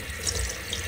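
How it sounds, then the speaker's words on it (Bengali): Water runs from a tap, steadily and close, while more water is poured into a cooking pot of mutton leg soup (paya/nehari). "আরও পানি দিচ্ছি"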